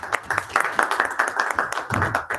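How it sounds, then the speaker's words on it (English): An audience at an international conference on diversity, equity, inclusion and belonging claps in a steady round of applause for an honoured guest, dense and even throughout with no voices standing out. "Huge round of applause for Miss Aditi."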